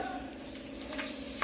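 Oil sizzling in a kadai, a brief, soft, steady frying hiss with a faint scrape near the end, no talk.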